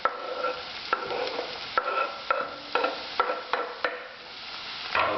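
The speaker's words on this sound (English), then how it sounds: "I'll turn the heat up a bit and we'll stir that about." A spoon scrapes and knocks against a pan at regular intervals while pasted garlic and diced pepper fry over rising heat for chilli con carne. A soft sizzle runs underneath, and no one speaks.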